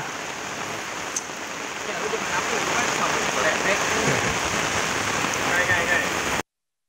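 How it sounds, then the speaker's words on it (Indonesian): Heavy rain pours down steadily in Bekasi, a dense close hiss of water on surfaces that grows a little stronger midway and then cuts off abruptly. "hujan kali ini mengguyur Bekasi sejak pukul 17"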